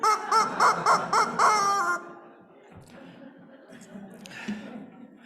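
A lucky chicken squeeze toy lets out a run of about six rapid, loud squawking clucks, then falls quiet, leaving faint room noise and a soft gasp.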